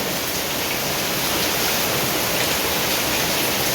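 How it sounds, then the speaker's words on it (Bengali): Heavy torrential downpour pouring steadily near a home's veranda and outdoor tap area, a dense unbroken hiss of rain with no voices. "মানে মুষলধারে নেমেছে, মুষলধারে।"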